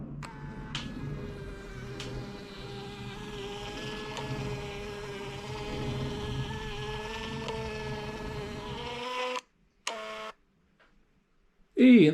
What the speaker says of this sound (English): I've got this FOMEMO Bluetooth printer, so all I need to do now is send it from here to the printer